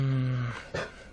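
A dog growls low and steadily, then gives a brief higher whimper near the end, close by and alone in an indoor room.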